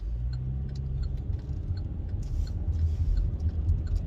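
Car driving on a food delivery run in Ashburn, Virginia, heard from inside as a steady low engine and road rumble with faint rattles, with no voices.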